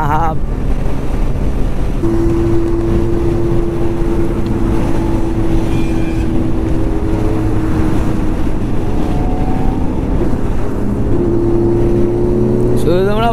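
A Kawasaki Z900 ridden hard at high speed, its engine a loud, steady droning roar mixed with rushing wind, with shifting whining tones as the revs rise and fall.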